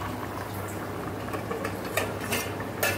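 Meat curry cooking in a pot, bubbling loudly and steadily with wet pops and a continuous boiling burble, a faint low hum beneath and no talk.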